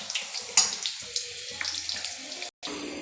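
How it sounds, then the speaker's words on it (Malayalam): Egg bajji and pazhampori batter frying in hot oil, a steady close hiss and crackle with a brief louder burst, running alone without talk before a short drop to silence near the end. "എണ്ണയിലേക്ക് ഇട്ട് കൊടുത്തിട്ട് ഇനി അത് എണ്ണയിൽ കിടന്ന് വേവട്ടെ."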